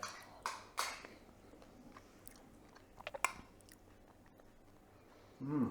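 Someone chews crunchy Morrisons wheat biscuit breakfast cereal close to the microphone, with several sharp crunching bites early, then quieter munching and a soft rustle near the end, with no talk.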